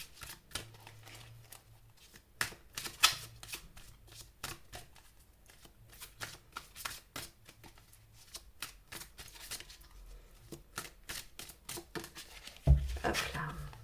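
Tarot cards being shuffled in the hands, a steady run of soft, dense riffling flicks and taps that carries on for over ten seconds, fairly close and quiet, ending in a sharper knock.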